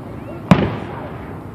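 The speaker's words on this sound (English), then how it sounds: "And fireworks." A single Fourth of July firework burst in Chillicothe, one sharp bang with a short rumbling decay, heard from a distance against quiet background.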